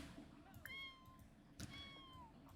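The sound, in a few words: kitten meowing in The Sims video game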